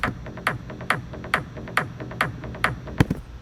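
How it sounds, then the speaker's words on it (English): A heavy three-layer electronic kick drum pounds in a steady four-on-the-floor rhythm, with punchy attacks and deep low body, played on its own. "Most of my tracks will have 3 layers of kicks"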